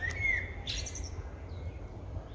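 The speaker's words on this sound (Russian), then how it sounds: "птички поют" Small birds chirp and tweet in a forest beside a lake, a few short bright calls scattered over a quiet, faint background with no talking.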